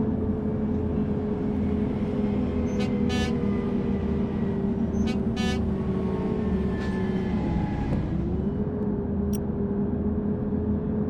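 Two short bus horn honks in the Bus Simulator Ultimate video game sound over a steady droning engine that shifts pitch as it runs, with no talking.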